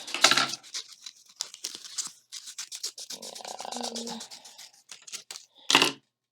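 Scissors cut paper around printed castle and cloud shapes for a knights-and-castles craft, giving close, dry snipping and rustling that comes in short irregular bursts, with one louder crisp burst near the end and brief quiet gaps between.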